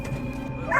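Hunting dogs trained to guard farms against wolves give a short, close, yappy bark, a single brief burst over a low rumbling background.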